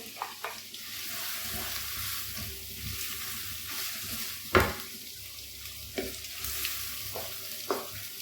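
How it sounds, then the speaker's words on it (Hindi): Minced meat fries in a pan with finely chopped tomato, giving a soft, steady sizzle broken by occasional stirring scrapes and a louder clack near the middle. There is no talk. "और अच्छी तरह भून लेना 1 से 2 मिनट"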